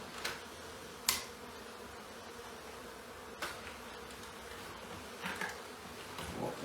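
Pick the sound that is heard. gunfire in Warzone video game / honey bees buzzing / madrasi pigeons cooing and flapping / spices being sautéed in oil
honey bees buzzing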